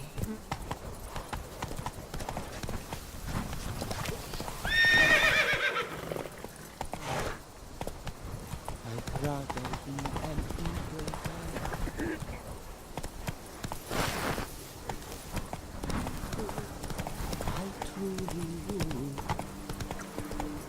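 Hooves of the horse Roach clip-clopping in The Witcher 3 video game, a continuous trotting rhythm of hoofbeats on the ground with a brief whinny early on, under game ambience and occasional voices.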